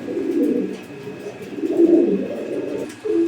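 Pigeons coo in soft, repeated rolling phrases close by, several birds overlapping in a steady murmur with a brief pause near the end.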